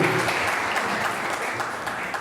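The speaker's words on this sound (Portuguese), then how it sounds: "Vamos aplaudir ao Senhor nessa noite" Church congregation applauding during an evening service, a dense continuous wash of clapping from a large crowd, loud and steady.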